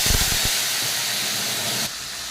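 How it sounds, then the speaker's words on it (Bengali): Tomato paste hits a hot frying pan, a few quick thuds and spatters at first, then a loud, close, steady hiss of sizzling and steam that softens slightly near the end. "এরপর দিয়ে দেবো একটু টমেটো বাটা।"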